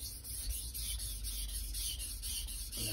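A 165mm Santoku knife being sharpened on a Chosera/Naniwa whetstone, a soft steady rasping rub with an even back-and-forth rhythm, close and quiet.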